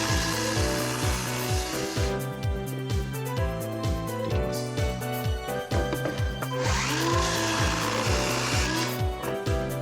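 A wooden board held against a stop and cut with a saw for a cooler-box stand, a fast steady rhythmic rasping that runs continuously and loudly, close up with no voices.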